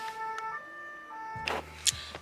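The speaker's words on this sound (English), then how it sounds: "It's an ambulance or a fire truck." A police car siren wails faintly in the distance with steady rising and falling tones, joined by a brief louder burst of nearby noise.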